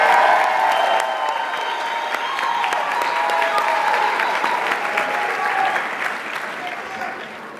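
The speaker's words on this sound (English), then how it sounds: "let's give our graduates one more round of applause." Sustained audience applause for graduates at a spring commencement ceremony, dense and loud clapping from a large crowd that continues evenly before tapering slightly at the end.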